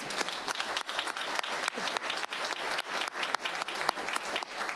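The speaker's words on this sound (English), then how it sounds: "Let's give them a round of applause." Scattered applause at a school board meeting, a modest group of people clapping in a room with distinct individual claps audible, moderately quiet and steady throughout.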